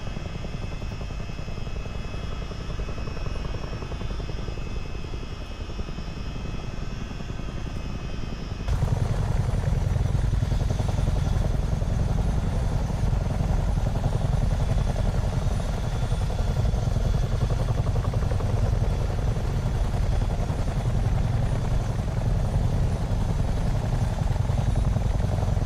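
A CH-47D Chinook helicopter in a multiplayer flight game: a loud, steady twin-rotor and turbine roar runs throughout, stepping up noticeably louder partway through and holding there, with no talking.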